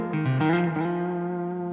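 Electric guitar run through an amp's aux loop with a short, small-room reverb, a few plucked notes ringing into a sustained chord that holds steady and alone.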